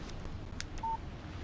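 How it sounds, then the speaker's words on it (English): A short electronic beep tone of a phone text message alert in the video game Alan Wake, a single clean note heard alone over quiet background. "Text message from Barry."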